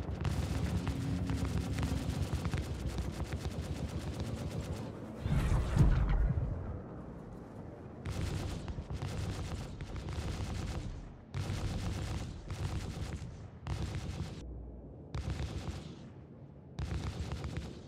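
Turret gunfire from an AI-crewed Carrack in Star Citizen, loud rapid bursts of shots repeating in blocks separated by short gaps, with one heavier blast-like impact near the middle.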